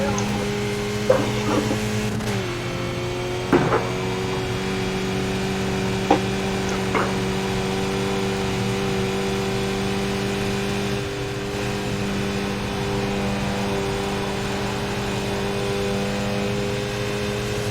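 A small 2-liter race car engine drones steadily at high revs while climbing the hill at Mount Panorama, Bathurst, in a racing video game, with a few brief gear-change blips early on before it settles into a long, even pull.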